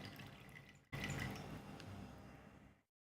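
A steady stream of water running and dripping out of freshly washed paneer hung in a cloth to drain, heard close up and alone with no talk before it stops abruptly.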